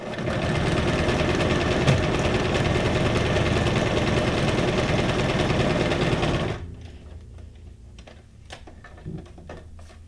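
A sewing machine stitches junk journal ephemera in a loud, steady mechanical whir that runs for about six and a half seconds, then cuts off, leaving a quiet room with a few small clicks.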